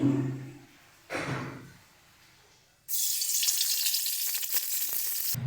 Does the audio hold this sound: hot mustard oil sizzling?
yes